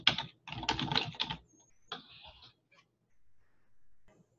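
Quick bursts of keystrokes on a computer keyboard while text is edited, two dense clusters of clicks followed by a few softer, scattered taps, close and fairly quiet.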